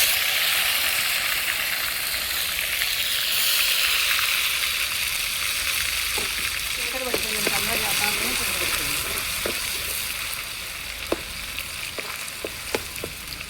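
Ginger garlic paste and curry leaves frying in a pan on a wood stove, a steady hissing sizzle throughout with scraping stirs and a few sharp clicks near the end.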